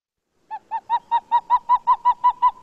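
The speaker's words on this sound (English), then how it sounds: "a very tiny bird called the pied-billed grebe, and he's got a really interesting sound as well" A pied-billed grebe calls a run of about a dozen hollow, hooting notes in a steady, slightly quickening rhythm. The notes are clear and close and grow a little louder as the series goes on.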